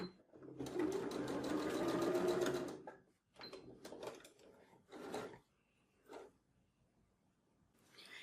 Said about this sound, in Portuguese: eu passei uma costura aqui